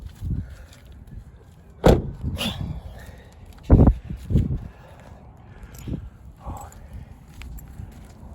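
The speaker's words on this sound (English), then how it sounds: "Now walking on the gravel again." Footsteps crunching on a gravel path in a valley, a few loud close steps spaced irregularly, with quieter scuffs and faint background noise between them.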